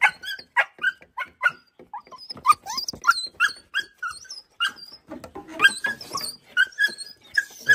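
A pregnant dog whimpers up close, letting out a run of short, high whines and yelps in an irregular rhythm, with quiet gaps between them and no talking.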